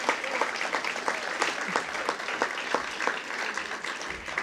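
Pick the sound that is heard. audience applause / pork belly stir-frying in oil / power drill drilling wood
audience applause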